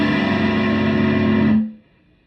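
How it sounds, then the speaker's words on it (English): Electric guitar on the bridge pickup with volume and tone knobs fully up, one loud, bright, distorted chord ringing steadily for about a second and a half, then cut off abruptly, leaving only a faint tail. "So here it is in the bridge pickup selector spot with everything turned up to 10."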